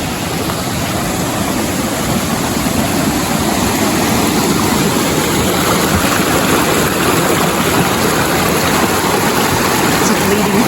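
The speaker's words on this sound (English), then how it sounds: "So this is not the real big waterfall. This is just a smaller one." A small waterfall beside a footbridge on the Coldwater Lake trail near Mt St Helens roars steadily and loudly, a constant broadband rush of falling water filling the whole stretch without pause.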